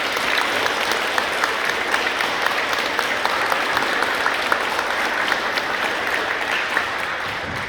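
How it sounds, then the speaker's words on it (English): An audience at a school assembly claps continuously, a dense, steady wash of many hands at even loudness throughout, with no talk over it. "give them a round of applause"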